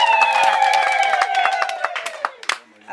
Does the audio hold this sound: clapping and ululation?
yes